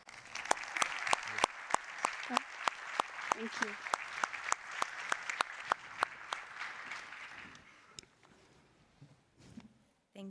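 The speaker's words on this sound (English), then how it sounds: "Please join me in giving them a big round of applause." Applause for the speakers after a roundtable on responsible use of AI in armed conflict, steady clapping with a few sharp close claps standing out, fading after about eight seconds as a voice briefly speaks.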